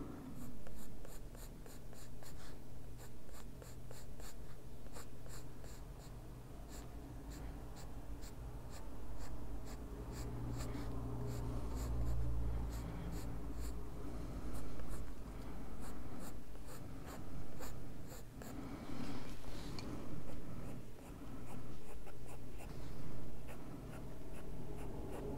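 Colouring pencil shading on paper in a Korean colouring book: steady, close scratchy strokes rasp back and forth continuously, with short pauses between passes and no talking.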